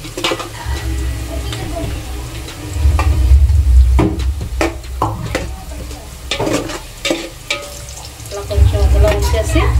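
Onions for biryani fry in hot oil, browning in a pan with a steady loud sizzle broken by stirring scrapes and spatula clinks, close up, with brief swells of heavier crackle.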